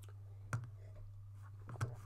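Two crisp computer mouse clicks, roughly a second and a quarter apart, sound close and quiet over a low steady hum, with no speech.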